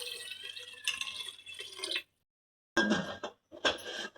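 Water is poured from a bowl into a cooking pot of rice, two bowlfuls for one of rice, in splashing bursts with a short silent gap between pours, close up and without talk.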